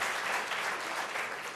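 Audience at a U.S.-Africa business forum breaking into brief, dense applause, many hands clapping together at steady loudness.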